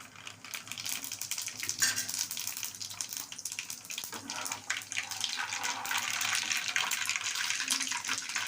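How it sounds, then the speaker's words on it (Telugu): Mustard seeds and cumin sputter and crackle in hot oil for a Telugu korameenu fish pickle, a dense, steady rush of popping that swells slightly louder toward the end, with no voices. "ఆవాలు జీలకర్ర వేస్తున్నాను."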